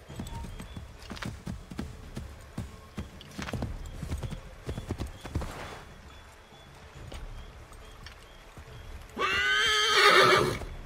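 Hooves clip-clop at a steady pace, then a loud horse whinny rings out near the end, close and clear, in the video game Assassin's Creed III.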